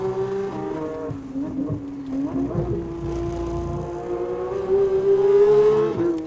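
Car on a racetrack fitted with Hoosier Track Attack Pro tires, its engine droning at a steady pitch that dips and climbs as it corners and accelerates, heard from inside the cabin.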